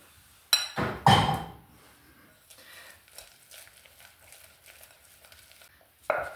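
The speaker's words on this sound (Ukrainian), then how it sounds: "І отак бистренько помішую, помішую, помішую, розмішую і заварюю." Flour being briskly stirred into hot milk in a bowl: a couple of loud clinking knocks at the start, then quieter scraping strokes, with another clink at the end, no voices.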